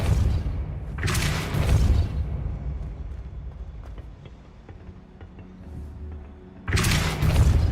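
Depulso force spell cast in the Hogwarts Legacy video game, heard as a heavy booming whoosh with a deep thump, then a quieter stretch of game ambience before another loud rumbling burst at the end.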